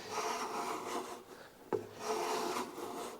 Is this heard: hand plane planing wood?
yes